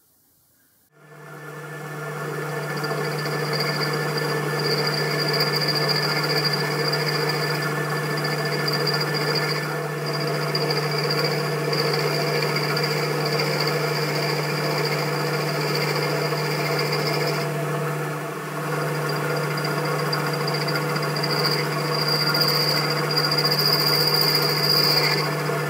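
A milling machine cutter used as a grinding wheel works the face of a revolving centre cone held between centres, giving a steady, continuous machine hum and grinding whine that runs throughout with no talk.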